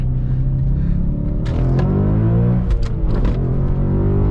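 A tuned 2007 Audi B7 RS4 V8 revs hard under acceleration, its engine note rising loud and continuous with a rumbling undertone and brief gear-change dips.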